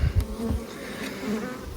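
Honeybees buzz close around a full nine-frame honey super, a dense droning hum with individual bees swelling louder as they fly past.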